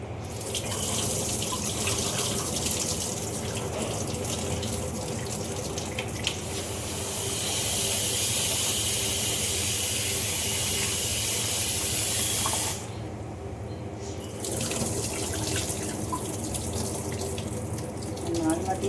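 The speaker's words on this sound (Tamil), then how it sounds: "3 வாட்டி தண்ணி நல்லா அரிசி கழுவிடணும்." Tap water runs steadily into a sink while seeraga samba rice is rinsed for biryani, a continuous close hiss and splash with a brief drop around the middle, and faint speech in the background.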